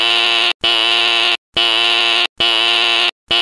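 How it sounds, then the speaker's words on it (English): Smoke alarm set off by a pie burning in an oven, loud harsh electronic buzzing tones repeating in long bursts separated by short silences. "Oh, is that a smoke alarm?"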